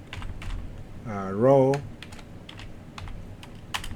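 Rapid keystrokes on a computer keyboard while VBA macro code is typed, sharp irregular clicks spread throughout, with someone speaking briefly over them.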